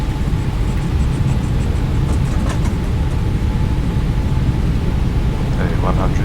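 Airliner engines roaring at takeoff thrust in the flight simulator X-Plane 11, a loud, steady, dense rumble and whoosh throughout, with brief higher-pitched tones and cockpit callouts spoken over it.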